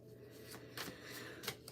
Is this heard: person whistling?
no